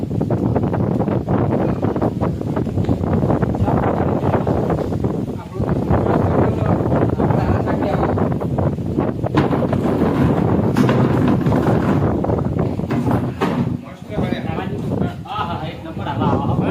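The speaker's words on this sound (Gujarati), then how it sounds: "મસ્ત પવન હે" Strong wind roars and buffets the microphone steadily throughout, with voices faintly talking beneath the rushing noise.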